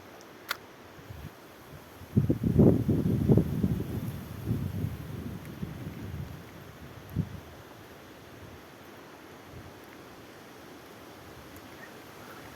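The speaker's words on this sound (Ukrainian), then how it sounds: "Тільки вітер сильний." Gusts of strong wind buffet the microphone in loud, low rumbling bursts while fishing, then ease into a quieter steady whoosh.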